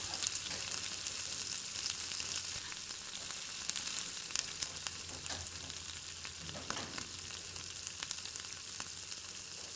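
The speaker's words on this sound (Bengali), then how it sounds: "আর অল্প জল দিয়ে এটাকে কষাতে দিয়ে দিচ্ছি। একটু কষানো হোক।" Katla fish head masala sizzles steadily in a pan with a little water, a continuous close frying hiss broken by occasional scrapes of stirring, and no voices.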